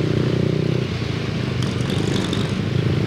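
Motor vehicle exhaust blows out on a busy street during sightseeing, heard as a steady, loud engine rumble with clattering traffic noise throughout.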